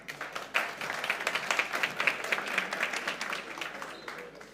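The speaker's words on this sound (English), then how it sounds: "Please give him a round of applause." Conference audience at BSides Amsterdam applauds a speaker, claps starting abruptly and continuing as a lively, fairly close patter that slowly eases off.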